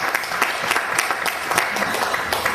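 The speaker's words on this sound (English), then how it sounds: "Give a round of applause to the very first rock and roll dance organiser" Lively audience applause at a rock and roll show, dense clapping with a slightly rhythmic pulse, loud and close throughout the short stretch, no speech over it.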